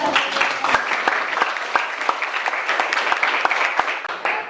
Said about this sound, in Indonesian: tepuk tangan untuk Weber